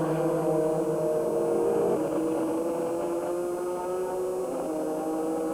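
Race cars roaring at night in the rain during the 2001 24 Hours of Le Mans, with a Chrysler spinning on the start straight; loud, continuous engine drone with shifting pitch and no speech.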